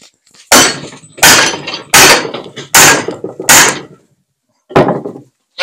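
A hammer striking welded metal to crack the joint loose: five sharp, loud, ringing blows in a steady rhythm, then a pause and one final strike.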